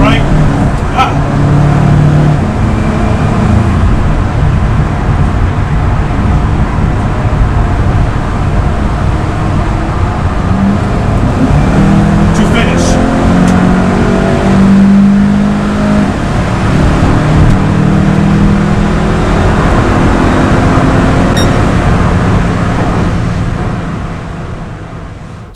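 A car lapping the Nürburgring Nordschleife on a track still wet in spots, its engine droning loud and close for the whole stretch, pitch rising and falling with acceleration and gear changes.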